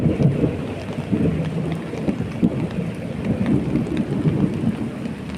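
Rumbling thunder rolls through steady heavy rain, a dense low roar of downpour with deep swells, heard outdoors without talk.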